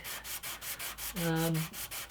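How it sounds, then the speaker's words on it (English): Sandpaper rubbing back and forth on the wooden bridge of an antique parlour guitar, short rhythmic strokes close up and fairly soft, with a brief tonal squeak partway through. "It really doesn't need much sanding."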